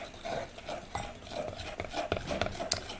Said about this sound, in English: add just a little bit more powdered sugar and stir it up